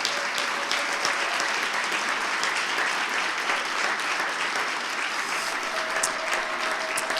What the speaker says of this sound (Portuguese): Aplauda Jesus, querido.